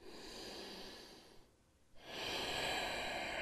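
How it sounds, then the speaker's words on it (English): Slow, controlled breathing in and out through the nose during yoga, each long airy breath close to the microphone, with a brief pause between them and no talk. "Slow, controlled breathing in and out of the nose"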